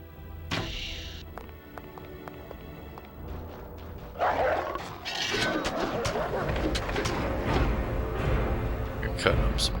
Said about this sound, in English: Cutting up some dogs.